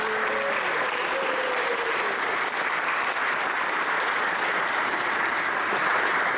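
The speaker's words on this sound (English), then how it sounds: "Big round of applause." Dense, continuous applause from an audience at a tiny whoop drone racing event held in a high school, steady and loud throughout with a few faint whistles near the start.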